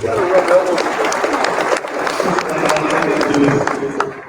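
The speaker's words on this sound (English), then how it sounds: "Another round of applause." Audience applause at a Second Chances Month celebration, a steady wash of many hands clapping at close-to-moderate range, with voices and cheers mixed in throughout the clapping.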